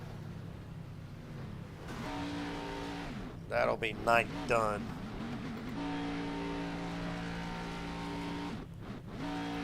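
A video game race car engine at Daytona drones with a steady harmonic whine, sputtering and cutting out unevenly as it fails, while someone talks briefly over it.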